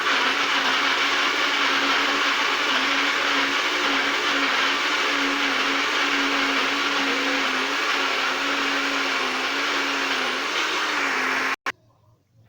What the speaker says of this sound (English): So I'm gonna do my blending.